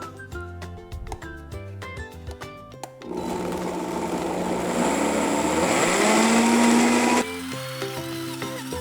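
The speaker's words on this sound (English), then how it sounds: "Blend all this together." A blender whirs loudly for about four seconds, blending kale chip coating ingredients with cayenne or chipotle into a sauce, its pitch rising as the mix smooths out before it stops abruptly; quieter background sounds come before and after.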